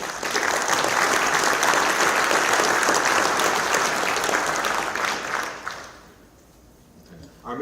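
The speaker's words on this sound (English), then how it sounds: "Ladies and gentlemen, a round of applause for our sponsors." An audience at the 2016 SM3 Connections logistics conference applauds its sponsors, dense sustained clapping for about six seconds that then fades away.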